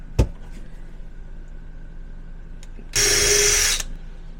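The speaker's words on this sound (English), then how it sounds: "get this pre-drilled so we don't split the wood" A power drill pre-drilling holes in wood trim for an RV pantry shelf rebuild, one short burst of whirring lasting under a second after a sharp knock, otherwise quiet room tone.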